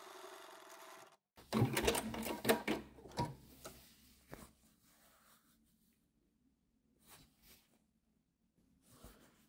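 An overlock sewing machine serges the full edge of a fabric panel for a zero-waste multipurpose bag, running in a loud close burst of whirring stitches that fades into quieter intermittent mechanical ticks and short runs.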